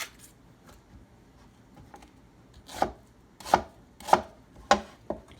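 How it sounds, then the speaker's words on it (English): Onions and tomato being chopped with a knife on a cutting board for saltfish rundown, a few faint taps and then five loud, evenly spaced chops close by. "I'm gonna go ahead and cut up some onions and the tomato and all these little aromatics"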